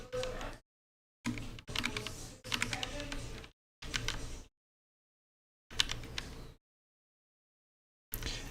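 Typing on a computer keyboard comes in bursts of rapid key clicks broken by silent gaps, close and moderately loud.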